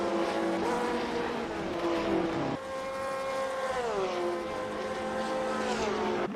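GT3 race cars, including Corvettes, battling at the Nürburgring Nordschleife in a sim racing game, high engine whine rising and falling through gear shifts, loud and continuous with no talk.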